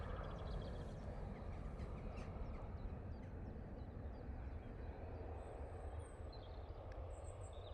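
A TUI airliner departing Manchester Airport for Montego Bay makes a distant, low, steady jet rumble that fills the whole stretch without pause, with faint outdoor background and no talking.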